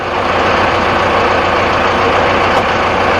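A 4x4 tractor engine runs in low gear, a loud, close, continuous diesel rumble with a steady low throb and no speech.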